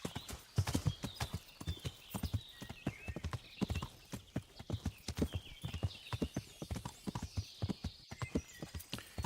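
Horse hooves clip-clop at a rhythmic trot on the ground in Kingdom Come: Deliverance, with close, distinct, regular hoofbeats throughout and a faint voice now and then.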